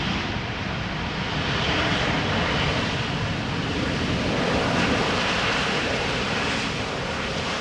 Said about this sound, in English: Reversers, yes, sound, noise, rumble.